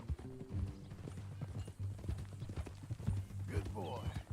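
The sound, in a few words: horse hooves clip-clop in video game Red Dead Redemption II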